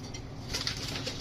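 Pigeons, a male and female pair held for sale, coo softly and flutter restlessly close by, their low throaty calls overlapping with brief wing rustles, fairly quiet throughout.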